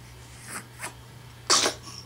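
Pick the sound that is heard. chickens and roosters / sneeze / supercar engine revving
sneeze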